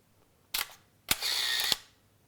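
Two mechanical camera shutter actions on a film camera loaded with expired 1988 Ilford Pan F 50: a short clack, then a second opening held for about half a second before closing, close and clear in a quiet room.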